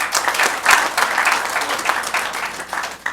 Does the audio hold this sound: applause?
yes